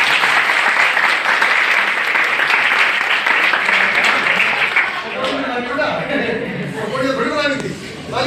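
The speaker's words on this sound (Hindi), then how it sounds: "और तुम बेटा अपने लिए ताली बजाना है।" Students in a classroom clap together in loud, sustained applause for several seconds, with scattered chuckles and voices mixed in as the clapping thins out toward the end.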